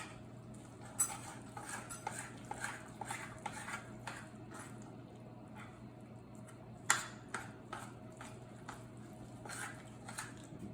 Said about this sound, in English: now we're going to mix all this together